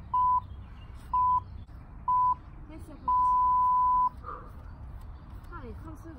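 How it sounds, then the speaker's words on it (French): Interval timer of a HIIT cardio workout sounds a steady electronic tone: three short beeps evenly spaced, then one long beep, clear and prominent, with a coach's voice speaking around them. "On se met en place quand les bips commencent."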